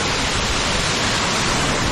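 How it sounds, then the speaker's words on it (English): A waterfall near the trail to Tiger's Nest Monastery in Bhutan roars steadily, a loud, unbroken wash of rushing water with no other sounds. "we get rewarded with this wonderful view of the waterfall"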